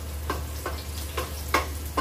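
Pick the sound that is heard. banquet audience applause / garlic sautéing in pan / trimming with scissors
garlic sautéing in pan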